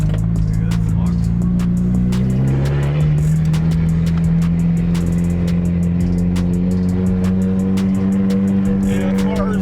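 Tuned street car on a freeway accelerating under boost, a loud engine tone climbing steadily with sharp clicks and wind roar throughout, heard from inside the cabin.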